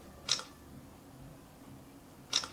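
A Samsung phone camera shutter clicks twice, two short crisp snaps about two seconds apart over faint room hiss.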